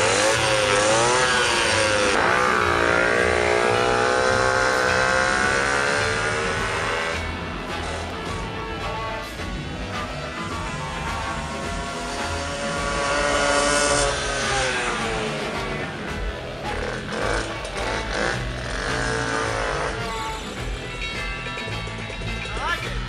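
A Puch Maxi moped with an expansion chamber exhaust and long low-speed jetting revs and rides, its buzzy two-stroke engine rising and falling loudly up close as a person talks over it.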